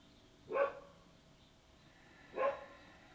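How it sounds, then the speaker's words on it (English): A dog barks twice, about two seconds apart, each a single short woof heard from a moderate distance over quiet background during a calm yoga session. "Listen to the sound of a dog barking."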